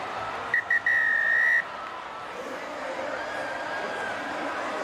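A referee's whistle blows at the end of a Super Rugby Pacific match between the Blues and Highlanders: two short chirps then one long blast over crowd noise, followed by a swelling stadium roar.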